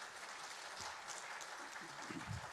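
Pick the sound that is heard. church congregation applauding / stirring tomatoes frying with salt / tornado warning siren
church congregation applauding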